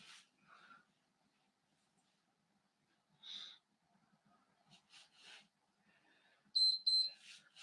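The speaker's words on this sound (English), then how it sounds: "When it beeps again" Two short electronic beeps sound near the end after several seconds of near quiet broken by faint rustles and soft sounds.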